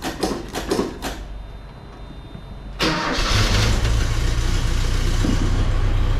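Ford Courier pickup under repair, engine cranking in several short bursts, a pause, then firing up abruptly and settling into a steady, loud, close idle.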